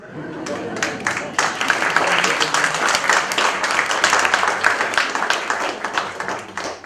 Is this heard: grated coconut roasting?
no